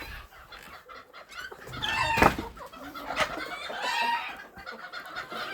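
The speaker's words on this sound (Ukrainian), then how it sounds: "Ой, бо злякалися кури" Frightened mixed-breed laying hens cluck and squawk in agitation, a burst of flustered calls with a sharp loud peak partway through, over outdoor farmyard noise.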